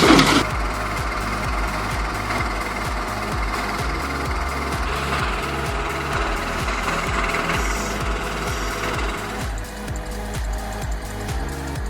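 A 250-horsepower Tiger Cat 1075B crane engine roars while lifting an overturned car out of mud. A loud, steady mechanical drone carries rapid rhythmic knocking pulses throughout and eases slightly near the end.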